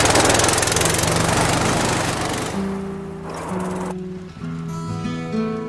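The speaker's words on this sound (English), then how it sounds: "The little red tractor's out" A little red tractor engine runs steadily and loud at close range, its rough drone holding throughout with a few faint tonal notes over it near the end.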